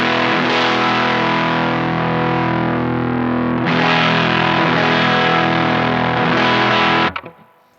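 An electric guitar runs through a Guyatone PS-001 distortion pedal, giving thick, sustained, buzzing chords at high volume, with one restrike partway through, before the sound cuts off and rings out briefly at the end.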